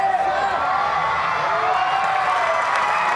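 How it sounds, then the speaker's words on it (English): Crowd at a men's artistic gymnastics World Challenge Cup in Tashkent cheering and applauding after a pommel horse routine, a steady wash of clapping and whoops filling the arena throughout, with faint commentary voices underneath. "Well, the crowd loved it."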